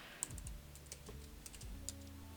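Quick, light keystrokes clatter on a computer keyboard while Python code is typed, with a few sharper clicks standing out close by and no speech over them.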